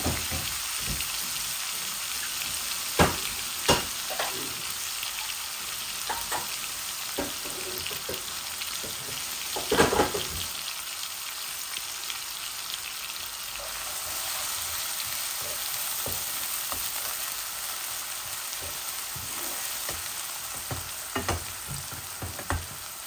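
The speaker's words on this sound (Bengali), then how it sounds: "আর এখন আমি পেঁয়াজটা ঢেলে দিব।" A medium onion frying in a pan with a few small pieces of cinnamon: steady, quiet sizzling broken by repeated sharp scrapes and clinks of stirring, close and without voices.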